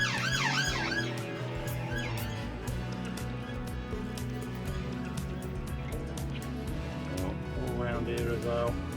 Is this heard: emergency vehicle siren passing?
yes